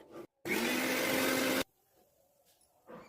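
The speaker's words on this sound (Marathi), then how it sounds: "मिक्सरक लावायचं." A kitchen mixer grinder blends a paan leaf with a little water in a loud, steady roar lasting about a second, then cuts off, leaving quiet room sound and a brief noise at the end.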